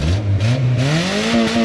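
A Honda Civic engine roars close and loud as it revs during a fifth-gear clutch dump, its pitch climbing steadily in a strained, rising drone.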